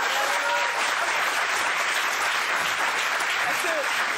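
Studio audience on a French talk show applauding, a dense, even wash of clapping held at full level, with a voice faintly underneath.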